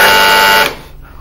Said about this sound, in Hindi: आप बजर जो पहले दबाएगा।